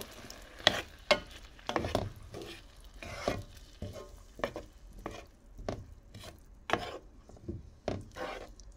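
A spoon stirs sweet and sour sauce for chicken breast in a frying pan, producing a series of irregular scraping and tapping strokes over a soft background sizzle, close and moderately quiet, with no one speaking.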